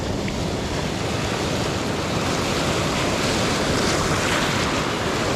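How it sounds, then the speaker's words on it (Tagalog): Heavy surf roars without a break, a dense wash of crashing ocean waves mixed with gusting wind buffeting the microphone, loud and close. "Malaki talaga yung alon kahit sa spot dito"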